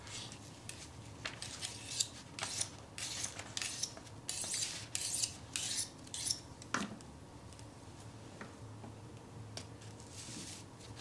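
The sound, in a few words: knife being sharpened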